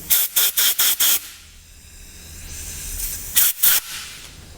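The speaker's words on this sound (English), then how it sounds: "Just going to blow a bit of compressed air right through the middle." Compressed air is blown through a carburettor jet in five quick sharp hissing bursts, then two more after a pause, loud and close.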